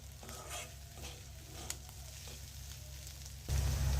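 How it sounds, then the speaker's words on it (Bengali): Vegetables frying in a pan in a village kitchen, with a steady sizzle and intermittent scraping and stirring of a utensil, the frying growing louder and denser near the end. "এখন আমি আর ঢেকে দেবো না কড়ো করে ভেজে নেব এভাবে নেড়ে চেড়ে"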